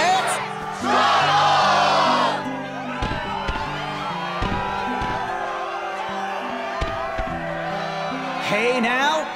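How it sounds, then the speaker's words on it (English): A roaring crowd cheers at a Struggle match in the video game Kingdom Hearts 2.5, with whoops and shouts layered over a steady din of game music and effects. "Yes, the crowd is fired up"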